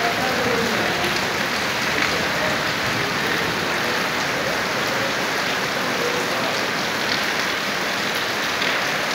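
Heavy, torrential rain pours steadily during a storm in Taxila, a dense, continuous hiss of drops striking surfaces close by, with no break across the whole stretch.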